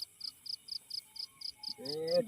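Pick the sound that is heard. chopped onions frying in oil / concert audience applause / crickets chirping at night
crickets chirping at night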